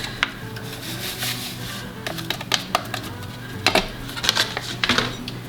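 Cream cheese, sour cream and ranch dressing mix are stirred together in a bowl, giving soft scraping and clinking of a utensil against the bowl in irregular strokes, close up and fairly quiet with no talking.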